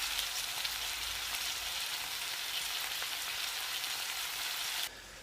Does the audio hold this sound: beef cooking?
yes